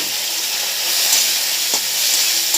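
Tomato, green chili and potato frying in a pan, a steady broadband sizzle with a few soft pops and hiss, close and fairly loud with no voices.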